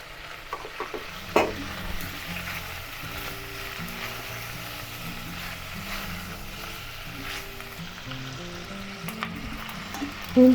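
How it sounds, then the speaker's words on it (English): Carrot pieces being stir fried in a pan for Japanese curry give off a steady, soft sizzle. Occasional scrapes and clacks of a utensil stirring come through, with no talk. "And stir fry."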